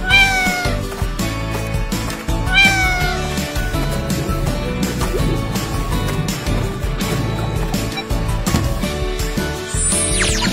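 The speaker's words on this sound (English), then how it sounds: "Cat." A cat meows repeatedly over busy background music, the calls loud and close, part of a children's educational set naming animals and their sounds with plastic toy figures.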